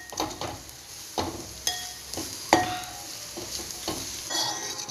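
Prawns and valavarakka beans with coconut being stirred in a hot pan, a spoon scraping and clinking in repeated strokes over a steady soft sizzle, close by with no talk.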